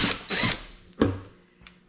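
Power drill fitted with a step bit cutting into a plastic ice cream bucket, heard as a few short whirring bursts and a sharp catch of the bit, close and loud with gaps between.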